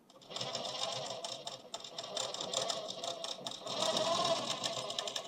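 Sewing machine stitching the side seam of a suit, a close, rapid mechanical whir with fast needle ticks that rises and falls slightly in speed over a few seconds.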